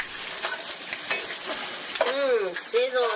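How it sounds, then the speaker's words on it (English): Bacon frying in a pan gives a steady close sizzle and crackle throughout, with a brief high whistle-like sound near the end. "Sizzle my bacon."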